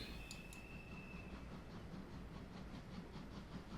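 Flying Scotsman steam locomotive running in a train-building video game, a faint steady rolling rumble with soft rhythmic clicks and a thin high whistle-like tone early on.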